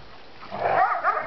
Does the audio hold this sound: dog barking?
yes